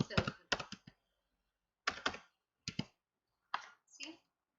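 A computer keyboard typed on close by, with short clusters of crisp key clicks separated by silent pauses, loud enough to stand alone in a quiet room.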